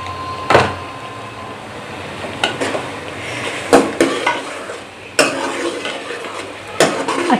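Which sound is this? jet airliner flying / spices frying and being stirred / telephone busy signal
spices frying and being stirred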